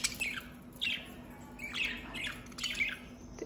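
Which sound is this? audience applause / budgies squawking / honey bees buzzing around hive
budgies squawking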